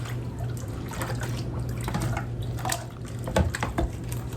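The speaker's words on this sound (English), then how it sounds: "I'm gonna kind of rinse it." A paintbrush rinsed in a water container during watercolor painting, with steady sloshing and dribbling water and scattered small knocks and splashes, close by and without talk.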